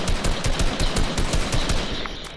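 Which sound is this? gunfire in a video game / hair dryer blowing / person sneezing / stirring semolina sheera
gunfire in a video game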